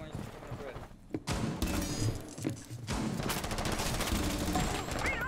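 Rapid gunfire rattles in a competitive first-person shooter match, dense bursts and volleys filling most of the moment, with a brief lull near the start and mixed game sounds throughout.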